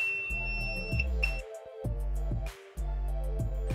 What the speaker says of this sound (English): And I got a beep.